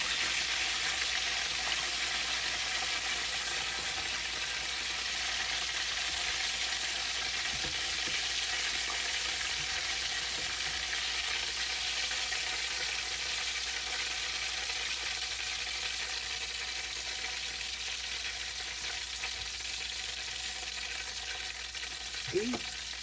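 Fried chicken frying in a pan makes a continuous, even, close sizzle with a bright hissing texture that stays constant for the whole stretch, with only faint occasional clinks.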